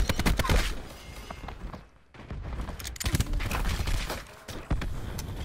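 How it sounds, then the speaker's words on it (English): Black Ops 4 gunfight with rapid, sharp bursts of gunfire in quick clusters, broken by a brief lull before shooting resumes close and loud, with thuds and footsteps mixed in. "Back away from that gunfight"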